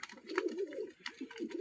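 Pigeons of several breeds cooing in a loft, giving close, repeated low rolling coos with light rustling and faint clicks around them.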